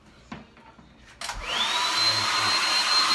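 A blow dryer with baby powder in it kicks on after a few soft knocks, then roars steadily and loudly with a whining tone that holds to the end.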